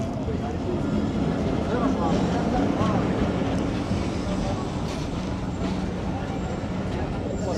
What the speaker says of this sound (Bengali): বাংলাদেশের সবচেয়ে অবহেলিত ট্রেন টুঙ্গিপাড়া এক্সপ্রেস।